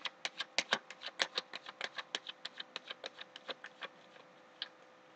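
Tarot cards being shuffled quietly by hand, a quick series of sharp riffling ticks and snaps close up that thins out and stops, with no talking.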